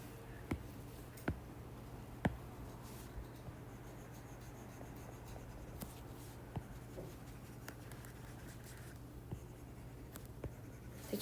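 A marker or pen scribbles and colors in a set diagram on a board, giving continuous scratchy rubbing strokes punctuated by sharper taps, close and fairly quiet over a steady low hum.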